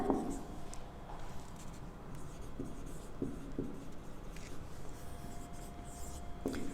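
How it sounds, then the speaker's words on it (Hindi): Chalk or marker writing on a board during a chemistry lecture, faint scratchy strokes in short scattered bursts over a quiet room hiss, with no speech. "तो देखो मैं यहाँ नाम लिखती जा रही हूँ।"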